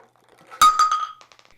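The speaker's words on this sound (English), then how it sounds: "And it did shatter at 6 feet." A Spigen glass screen protector on a Samsung Galaxy S22 Plus shatters when dropped from six feet: one sharp crack followed by a few quick glassy clinks that fade out.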